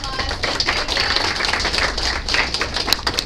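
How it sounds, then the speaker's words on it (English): Audience clapping for panelists at the end of a question session: dense, steady applause from a room full of people, lasting a few seconds without letting up. "Let's give them a big round of applause"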